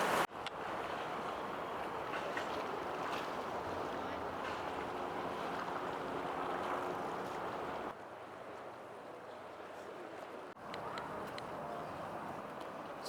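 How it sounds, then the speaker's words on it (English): Harbour ambience at the Circular Quay ferry terminal in Sydney: a continuous broadband wash of water, boat engines and wind, with a slight drop in level partway through and faint voices mixed into the background. "So Circular Quay is a big ferry terminal."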